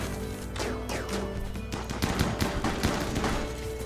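Rapid bursts of video game gunfire crackle through a chaotic raid battle, with repeated shots and impacts layered over a dense, steady background din.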